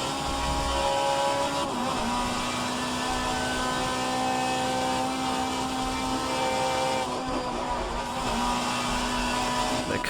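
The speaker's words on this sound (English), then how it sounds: "The car sounds awesome though from the interior." An Alfa Romeo 155Ti race car at Spa-Francorchamps drones loudly from inside the cabin, a steady, sustained engine tone with strong harmonic whine that holds nearly constant at speed, with a brief dip near the end.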